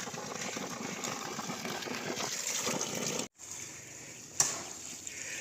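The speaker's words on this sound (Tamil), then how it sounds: "இங்கே பாருங்கள் தண்ணி போய் எப்படி வருது" Water gushes steadily from the outlet of a 1 hp PMSM solar pump in a continuous, fairly loud rush. One brief break interrupts the flow and a short sharp sound follows.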